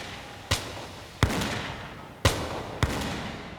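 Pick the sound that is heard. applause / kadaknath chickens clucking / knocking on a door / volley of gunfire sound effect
volley of gunfire sound effect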